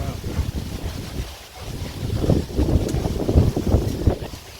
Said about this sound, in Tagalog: Mahangin pa dito.